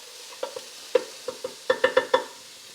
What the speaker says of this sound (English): We're gonna start sauteing our vegetables and get our sausage browned up.